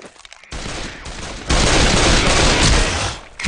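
Dense video game gunfire, a sustained fusillade of rapid overlapping shots that starts abruptly and swells louder midway, then tapers off near the end, close and continuous.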